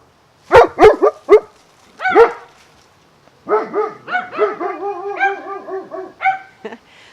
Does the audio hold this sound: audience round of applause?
no